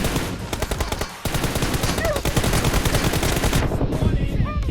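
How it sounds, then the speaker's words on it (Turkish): Rapid automatic gunfire in the battle royale game PUBG, a loud, close, sustained rattle of shots that pauses briefly and resumes, ending abruptly as the last round is spent. "O son mermiyi sıktım sıfır kaldı."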